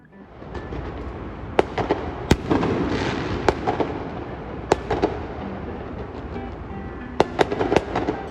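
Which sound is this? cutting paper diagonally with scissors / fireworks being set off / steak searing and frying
fireworks being set off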